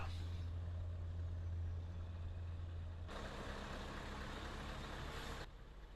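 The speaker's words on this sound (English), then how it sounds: "Yep, I suspect it's garbage truck." A garbage truck in the driving game Euro Truck Simulator 2 gives a low, steady engine drone, with a deep hum that drops out partway and a brighter broadband rumble that later ends abruptly.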